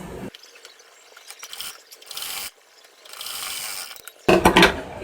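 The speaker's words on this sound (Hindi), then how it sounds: "चलिए बाँह पे हम सिलाई लगाते हैं" A sewing machine stitching a blouse sleeve, running in several mechanical bursts separated by short pauses, with a rapid whirring, clicking rhythm heard close and alone.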